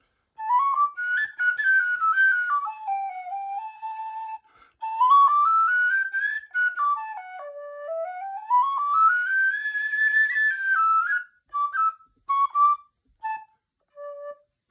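A tin whistle plays a flowing melody alone, with smooth slides between notes and several phrases separated by short pauses, ending in brief staccato notes.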